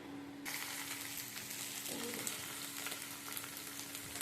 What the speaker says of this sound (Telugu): చూసారా, ఎర్రగడ్డలు వేపుకున్నాం